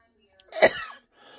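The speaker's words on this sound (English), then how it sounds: "I'm sorry about my coughing" A single harsh, explosive cough from an adult with a persistent cough, close to the microphone and followed by a brief breathy trailing sound, otherwise quiet.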